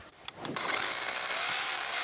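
Power tool cutting a steel profile pipe leg, a steady harsh grinding whine that builds after a few short knocks and holds continuously and close.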